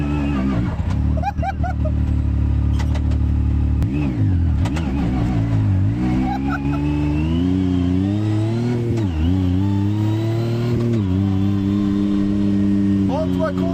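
A Yamaha YXZ 1000R side-by-side with an unpredictable throttle revs repeatedly, its engine note rising and falling in uneven swoops, loud and close, while people talk over it.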